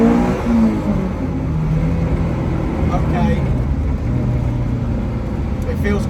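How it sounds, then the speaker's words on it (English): Inside a retro Ford Escort fitted with a swapped-in Honda S2000 engine, the motor drones and revs steadily while driving, with road and cabin rumble throughout and occasional voices over it. "So we're out in the Escort with the S2000 Honda engine."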